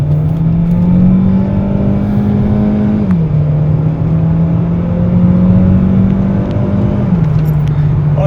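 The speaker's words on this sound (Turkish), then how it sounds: "ben arabanın sesini de çok beğeniyorum" A Volkswagen Golf 1.4 TSI engine with DSG gearbox and LPG conversion, at 200,000 km, revs continuously up close, its loud drone climbing in pitch and dropping twice as the gears shift.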